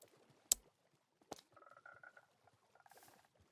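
Frogs in Minecraft make soft, faint croaks and chirpy calls, with a couple of sharp clicks and light patter in between, heard close by in a quiet setting.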